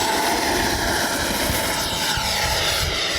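A FlyFans L-39 64mm electric ducted-fan RC jet taking off, a loud continuous whooshing roar held close and steady throughout.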